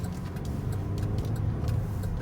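Front-wheel-drive 2015 Chevrolet Traverse LTZ with a 288 horsepower engine pulling hard, a steady low engine hum with road rumble heard from inside the cabin, moderate and even.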